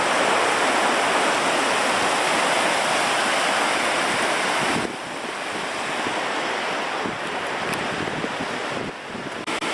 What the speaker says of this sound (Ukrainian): Ось водоспад, вже чути його гуркіт, вже чути звук.